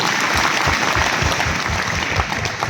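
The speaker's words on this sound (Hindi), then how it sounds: "उन सारे बच्चों के लिए और उन टीचर्स के लिए भी एक बार जोरदार ताली बजाइए।" Audience clapping at a school annual function, a dense, steady round of applause from a large crowd lasting the whole stretch without letting up.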